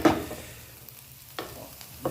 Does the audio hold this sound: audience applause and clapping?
no